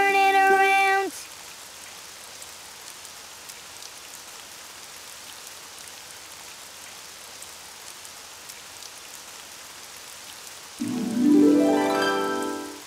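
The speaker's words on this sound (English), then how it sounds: "It's raining outside." Steady soft rain hisses throughout in a children's cartoon, framed by brief bright tonal chimes at the start and a swelling melodic sound near the end.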